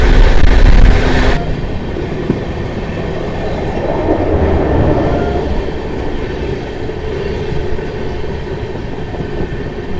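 The Rishikesh Barmer Express rolls along the rails with a loud, steady, close rumble and faint clickety-clack, heavier for the first second before settling into a constant roar.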